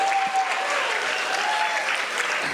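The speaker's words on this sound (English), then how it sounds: "Let's give them another round of applause." Steady, dense applause from an audience filling the room after a youth league skit performance at an anniversary event, continuous throughout with no pauses.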